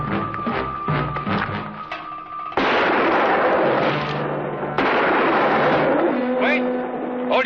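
Gunfire in a classic western TV episode: a few sharp shots at the start, then loud, dense bursts of blasting and ricochet-like noise that cut in abruptly and continue to the end, with a voice shouting briefly amid it.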